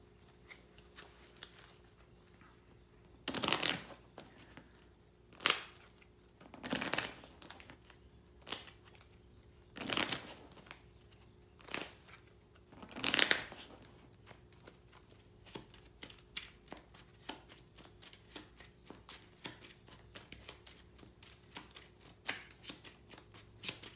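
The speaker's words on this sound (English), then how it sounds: "shuffle the encounter discard pile into the encounter deck" Cards from the encounter deck and discard pile of a ghoul-themed tabletop card game are shuffled together, giving several loud riffling bursts spaced a few seconds apart, then softer scattered card handling and flicks near the mic with no talking.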